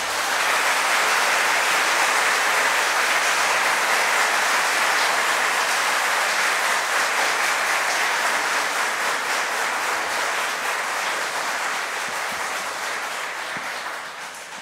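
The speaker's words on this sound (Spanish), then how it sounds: "El público les puede brindar un merecido aplauso." A seated audience applauds newly sworn-in lawyers at a Supreme Court swearing-in ceremony, a dense, steady wash of clapping that holds loud and even for about fourteen seconds before easing slightly at the end.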